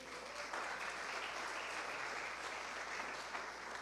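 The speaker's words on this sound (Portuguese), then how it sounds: "Aplauda o Senhor." Church congregation applauding during a Portuguese-language sermon, a dense, steady wash of many hands clapping at once, moderately distant and even throughout.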